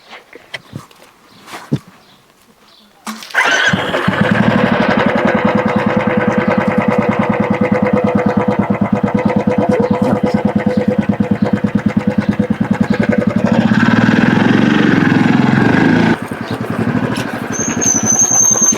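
A motorcycle engine starts after a few faint knocks and then idles loudly and steadily close by for about fifteen seconds, its tone shifting slightly near the end before it settles again.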